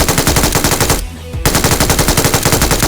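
Rapid automatic gunfire in the mobile game PUBG Mobile, a loud, fast, even burst that cuts out for about half a second and then resumes at the same pace.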